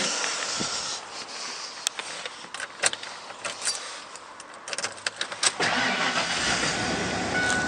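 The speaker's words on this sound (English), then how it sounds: "See, it fires right up" A cold Ford Bronco engine cranks with a few rapid turning bursts, then catches and settles into a steady idle, preceded by faint clicks and jangling keys.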